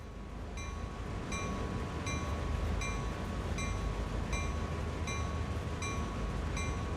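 A train in Train Sim World 2 rolls along steadily with a continuous low rumble and faint regularly repeating high clicks, moderately loud and with no talk.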